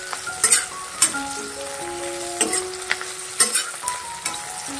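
Mushrooms, onion and capsicum are sautéed in a hot pan for a village-style mushroom masala. A loud close sizzle runs under repeated spatula scrapes and clinks, with faint tonal squeaks and no talk.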